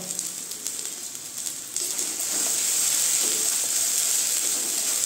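Pointed gourd paste with salt cooking down in a pan in a Bengali kitchen, giving a steady hiss and sizzle that grows louder and denser partway through and then holds, with no talking.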